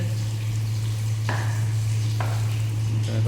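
Onions fry with ginger-garlic paste in a pan for a gongura mutton curry, a soft steady sizzle with a couple of light stirring scrapes; no one speaks.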